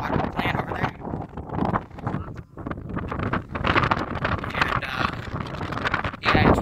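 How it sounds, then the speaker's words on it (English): Strong wind on a hilltop buffets the microphone in loud, uneven gusts that rise and fall, briefly easing before surging again, with no talk over it. "Really windy up there."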